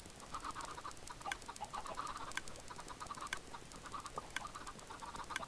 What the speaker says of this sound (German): Oh mein Gott, so viele Hühner!